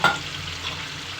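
Fish curry being stirred in a pan, a brief soft scrape followed by a faint simmering hiss, heard close and alone.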